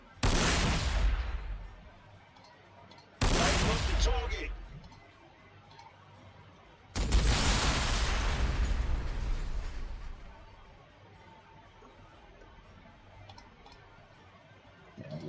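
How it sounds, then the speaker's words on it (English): Three heavy battle cannon shots boom in the Warhammer 40,000: Sanctus Reach video game, each a loud sharp blast trailing into a rumbling decay, the last one longest, with quieter game ambience between them. "Or I can just use the battle cannon."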